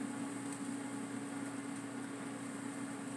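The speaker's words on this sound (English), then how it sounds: "So I have my casserole baking in the air fryer" An air fryer running with a casserole baking inside gives off a steady, even mechanical hum and fan whir with no breaks, alone and fairly quiet.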